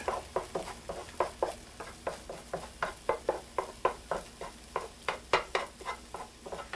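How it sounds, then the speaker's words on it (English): Cooked egg being broken up in a frying pan for fried rice: repeated rhythmic scraping strokes of a utensil against the pan over a soft sizzle, close and fairly quiet. "My egg looks like it's pretty much cooked, so I'm just going to break this up a little bit."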